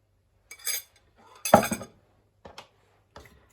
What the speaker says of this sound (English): Going to just use a fork now because I just want it to be roughly mashed.